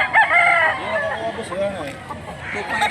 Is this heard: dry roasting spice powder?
no